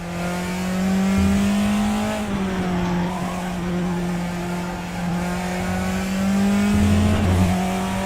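A car with no traction control or ABS is driven hard, its engine droning steadily near and loud with pitch dips on shifts, and bursts of tire squeal and skidding.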